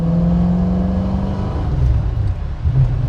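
A 1966 Mustang coupe accelerates on the road through first, second and up to third gear, its loud, steady engine drone rising in pitch at close range with no talking.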